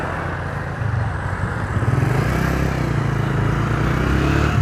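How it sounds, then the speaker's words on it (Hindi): A tractor turns and drives off during rural shoulder-building earthwork, its engine a steady low rumble that grows slightly louder and holds throughout, close by with no talk. "तो ये ट्रैक्टर यहाँ से मोड़ते हैं तो आप लोगों को दिखाते हैं जी"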